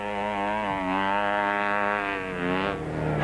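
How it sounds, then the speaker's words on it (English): Little single-cylinder quad bike engines of the 200 class labour hard through sand in a desert race, a strained, buzzing drone held high and steady, with a brief dip as the pitch shifts. "the little single-cylinder engines worked very hard indeed"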